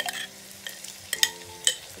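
Minced meat (keema) frying and being stirred in a pan, a quiet steady sizzle broken by a few sharp scraping clinks of the spoon against the pan, with no talking.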